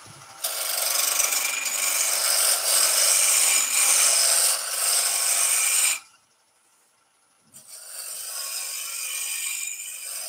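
A wooden pepper grinder blank is shaped down to a cylinder, giving a loud, continuous rasping and rubbing of a cutting tool against spinning wood that stops abruptly, falls silent briefly, then resumes more softly.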